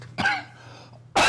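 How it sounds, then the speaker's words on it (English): Two short, sharp coughs, one near the start and another at the end, close and fairly loud against a quiet background. "I just had to cough."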